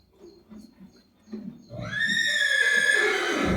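A horse neighs loudly and close by in a long, quavering whinny, preceded by soft shuffling and a few quiet knocks.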